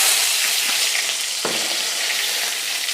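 Mustard seeds and curry leaves sizzle in hot coconut oil while an aviyal is being made, a steady close frying hiss with a brief sharp crackle midway.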